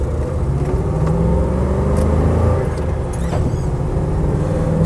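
A Land Rover Defender 90 County with a V8 engine rumbles loudly and close in a steady, deep running note, with no talking.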